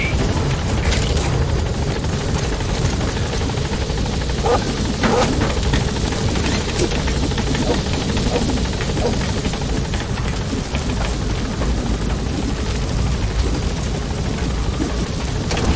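Pequod, a transport helicopter in Metal Gear Solid V, arrives at a landing zone with loud, continuous rotor thrum and engine roar, broken by occasional sharp crashes and bursts like distant gunfire.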